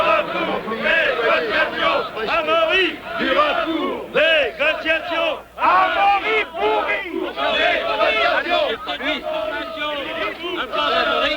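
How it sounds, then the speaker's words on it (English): Roadside demonstrators at the 1976 Paris–Roubaix cycle race cheer for the idolised rider Bernard Thévenet, a close, loud and continuous din of many overlapping shouting voices. "even the demonstrators have their favourites to cheer, such as the idolised Bernard Thévenet"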